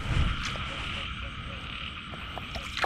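A chorus of many frogs croaks steadily through the rain during mating season, with repeated short calls layered over constant wet background noise and no talk.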